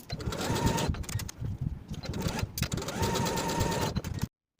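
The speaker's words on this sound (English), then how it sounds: "Sew your pocket flaps down with the 1/4 inch piece flipped underneath the 1 inch flap and sew with a 1/8 inch seam allowance." A sewing machine runs two long, even bursts of rapid stitching, separated by a short pause, as pocket flaps are sewn down with a narrow seam on a boxy linen-style top, then stops abruptly.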